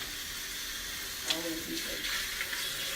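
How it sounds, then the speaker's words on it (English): Tap water runs steadily into a kitchen sink as cooked noodles are rinsed, a soft continuous splashing with a few small clatters, close by. "now I'm going to just rinse the noodles off"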